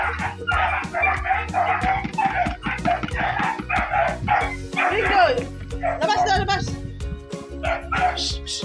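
Dogs bark repeatedly in quick, yapping bursts, with a rooster or chickens calling in between and voices talking now and then.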